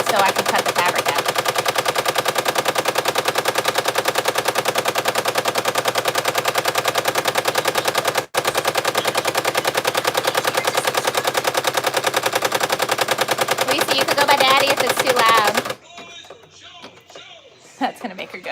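A machine embroidery machine stitches an appliqué, giving off a loud, rapid, steady mechanical rattle for about fifteen seconds. After a brief break it stops abruptly, leaving quieter room noise.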